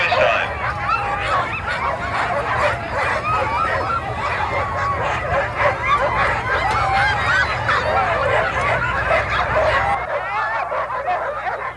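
Sled dogs bark and yip in a constant, excited chorus before a dog sled race, many animals close by and loud, with a steady low rumble underneath.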